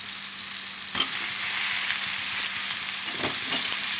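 Mutton and eggplant pieces fry in hot oil for a curry, giving a steady, close crackling sizzle with a few brief stirring knocks near the start and end.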